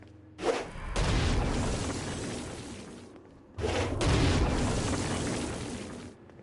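Two heavy Stone Blast explosions from the video game Saints Row: Gat out of Hell, each a sharp onset swelling into a long, loud roaring rumble that slowly fades, with no talk.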